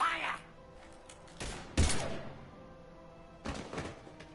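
Sparse gunfire bursts in the video game Mass Effect 3: a few sharp shots and thumps spread over several seconds, with game voices faintly underneath.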